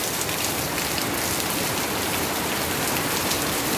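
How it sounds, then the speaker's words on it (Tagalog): Heavy rain pours steadily onto a road, a dense, loud, unbroken hiss of water hitting the surface with no voices over it. "Pero ang lakas at kaaga ng ulan."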